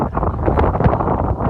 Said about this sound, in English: obviously you won't be able to hear that because it was so windy